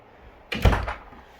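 A bedroom door opens with a single soft thump and a brief rustling swish that fades quickly, heard nearby in a quiet room with no talking.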